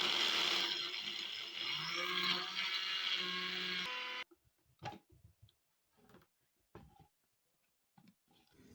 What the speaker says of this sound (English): after adding it to the blender, cover and blend smoothly.